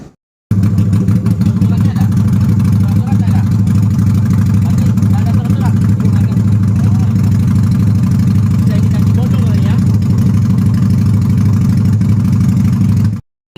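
A motorcycle fitted with a loud aftermarket brong exhaust runs at close range, a steady, heavy, rumbling engine note that holds loud and unbroken for about thirteen seconds before cutting off.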